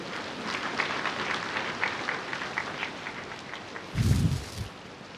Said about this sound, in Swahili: Naomba tumpigie makofi mengine mwenyekiti wa sekta binafsi hapa nchini Bi Angelina kwa maelezo hayo.